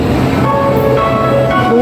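An MRT metro train rumbles loudly and steadily at a station platform, with a sustained droning hum and faint tonal whines and no talk.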